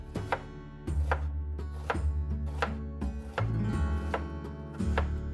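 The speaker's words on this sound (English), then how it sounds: "I'm just going to cut this in half, then just slice it into thin pieces" Knife slicing a sweet Vidalia onion into thin pieces on a cutting board, a steady series of about eight crisp chopping knocks, close and clear, no voices.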